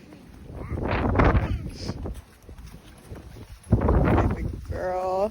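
Strong gusting wind buffets the microphone outdoors during a snow storm in Houston, Texas, loud roaring bursts rising and falling, with a person speaking in between.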